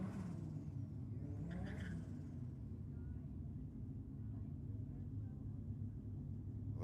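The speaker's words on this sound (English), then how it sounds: "Another pair of Hondas down there." Two Honda cars run at a night drag race in Sydney, heard as a distant, steady engine rumble and whir with a faint rising whine, low in level and continuous throughout.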